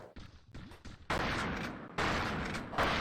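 Explosive blasts from grenades thrown in the video game The Thing, a few loose bangs early, then two loud, sustained roaring explosions that fill the rest of the moment up close.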